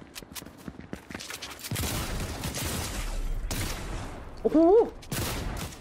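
Gunfire bursts from a Fortnite match, rapid repeated shots in several volleys, loud and close, with a Thai-speaking player exclaiming between them and a brief electronic whistle near the end.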